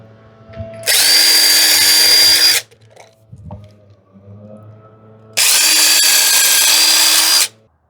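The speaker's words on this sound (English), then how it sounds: "you're going to be drilling on the PVC pipes at roughly a 45-degree angle from each position that we've marked" A power drill bores holes at an angle into PVC pipe for a DIY garden irrigation system, giving two loud, close, high whining bursts of about two seconds each, separated by quiet handling sounds.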